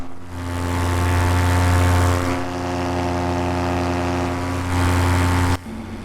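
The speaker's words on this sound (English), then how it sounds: "green Paramotor departing the field to the north will remain in local area about a mile north of the field" A green paramotor flying a BGD Magic wing drones steadily in flight near a field at Hartsville, its engine and propeller giving a loud, continuous buzzing hum that eases slightly midway and cuts off sharply near the end.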